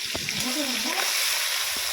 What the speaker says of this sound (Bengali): তেলের মধ্যে দিয়ে চিংড়িগুলো খুব সুন্দর করে ভেজে নেব